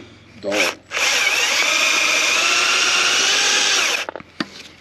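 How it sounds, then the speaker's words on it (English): A power drill whines briefly, then bores continuously for about three seconds at a steady high pitch before cutting off, close and loud, drilling during radiator disassembly on a 1939 Caterpillar D4. "Is it drilling? Yeah, this one's drilling."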